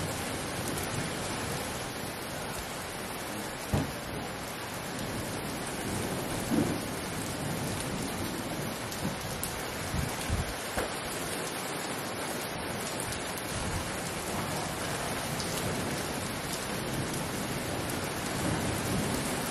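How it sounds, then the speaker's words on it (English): Steady heavy rain pours down in a dense, continuous wash during a hailstorm, with a few low rumbles and cracks of thunder rising through it. "So she's downpouring, and it's awesome."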